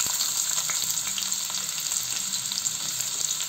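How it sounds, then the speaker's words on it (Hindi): Onions fry in hot oil with cumin and chilli for tomato vada, giving a continuous, even crackling sizzle from start to finish with no voices. "अब इसमें थोड़ा सा प्याज डालेंगे"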